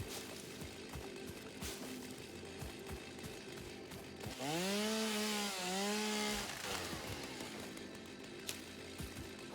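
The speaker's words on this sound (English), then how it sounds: "it seems like the chainsaw won't remove the producing plants like berries and nuts unless you explicitly target them" A chainsaw in the Satisfactory video game cuts through plants in an open outdoor area, a steady buzzing drone that rises into a louder, pitch-bending whine for about two seconds in the middle, with no talking.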